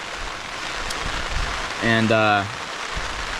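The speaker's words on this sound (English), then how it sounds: "It is really raining now" Heavy rain falling on a tent and tarp at a solo bushcraft campsite makes a steady, close broadband hiss, and a voice briefly speaks partway through.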